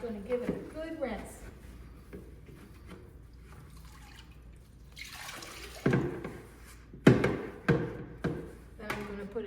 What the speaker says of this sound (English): I'm going to take this and I'm going to give it a good rinse.